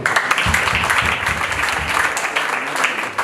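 An audience applauding at a traditional bride-price ceremony, a dense continuous patter of many hands clapping at once, close and fairly loud, lasting a few seconds.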